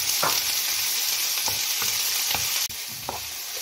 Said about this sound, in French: vous mettez les poivrons et les oignons rouges à revenir pendant 2 minutes